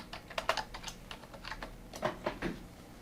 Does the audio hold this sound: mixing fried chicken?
no